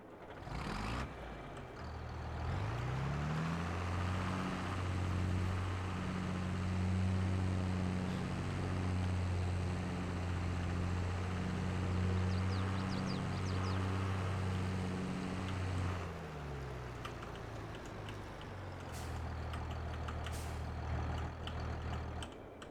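A 1980s CASE 90 series tractor engine in the video game Farming Simulator 22 starts up and drones at a steady idle with low harmonic hum, then shuts down, leaving quieter background sound.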